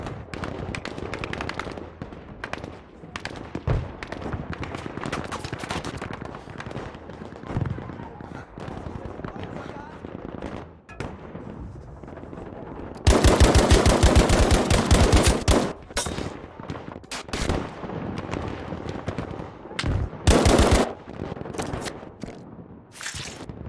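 Gunfire from a tank-mounted machine gun in the Battlefield 5 video game, with dense rapid bursts mid-clip and a shorter burst later, set among other game sounds and scattered shots.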